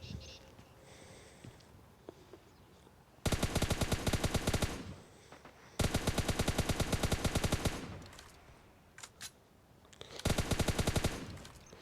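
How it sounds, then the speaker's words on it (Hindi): Automatic gunfire in PUBG Mobile Lite, with three long, loud sustained bursts of rapid shots separated by quieter stretches of game ambience. "तो इधर मैं इस चुन्नू भाई को मार रहा था, लेकिन दूर से हमें फायर आता है"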